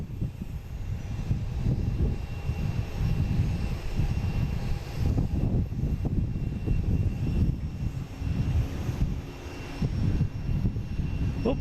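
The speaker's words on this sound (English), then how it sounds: "Oh, and we got a JetBlue coming in." A JetBlue Airbus A321 landing from San Juan gives a deep, rumbling engine roar that swells and dips unevenly, loud and fairly close, heard alone without speech.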